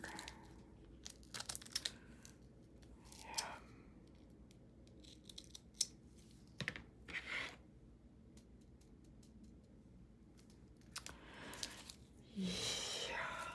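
Scissors snip through a paper belly band for a craft tag in several short, scattered cuts, with crinkling paper handling and faint talk in between, close and quiet.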